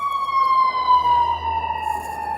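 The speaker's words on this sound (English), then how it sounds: "Okay, there's nobody on that ambulance." An ambulance siren wails loudly and steadily as it passes nearby on a street, its pitch sliding gradually lower as it moves away, with a faint engine rumble underneath.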